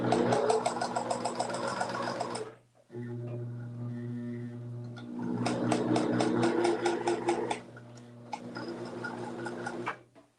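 Sewing machine stitching fabric, close and loud, running in rapid rhythmic bursts with a steady motor hum, pausing briefly twice between runs.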